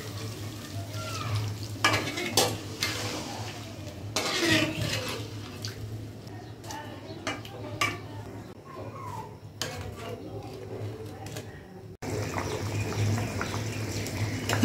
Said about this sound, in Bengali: মাংস কষা হয়ে গেল, এবার জলটা দিয়ে দিই।